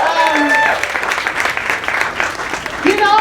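Audience clapping in a Haitian-owned café, Café Erzulie, a dense steady burst of many hands with cheering voices rising over it near the start and end.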